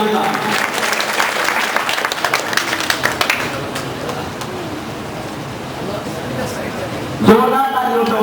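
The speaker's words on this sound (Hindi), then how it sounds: "जोरदार तालियों से उनका स्वागत कीजिए।" A hall audience at a district disability conference in Shahjahanpur claps loudly to welcome a guest. The dense applause is strongest at first, then thins and fades, and a sharp louder sound cuts in near the end.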